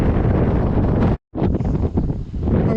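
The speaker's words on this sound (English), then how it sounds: "It's very windy." Strong wind buffets the microphone with loud, continuous rumbling gusts, broken by a brief sudden drop to near silence before roaring back, outdoors on moorland near Redmires reservoirs, Lodge Moor, Sheffield.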